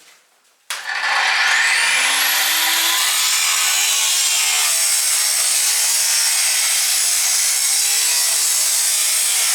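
A body pillar on a white Ford Sierra is cut with a tool, starting abruptly and then grinding on loudly and steadily, with a rising whine near the start.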